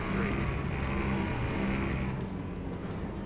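LMP2 prototypes in Le Mans Ultimate, an endurance racing game, make a loud, continuous engine roar that swells and then eases slightly toward the end as cars pass close by.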